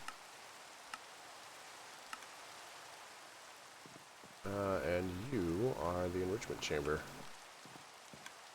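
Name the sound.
rain falling in a video game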